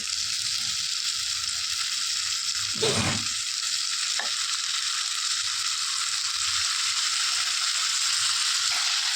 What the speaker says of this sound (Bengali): এই যে আলুটা দিয়ে এখন ভালো করে ভাজা ভাজা করে নিচ্ছি এই মশলাগুলোর সাথে কষিয়ে নেবো আলুটাকে